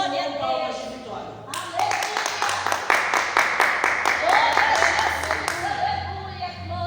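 Church congregation clapping hands in praise, a steady rhythmic burst of many claps that starts after a moment and carries on loudly under a preacher's voice and the crowd's exclamations.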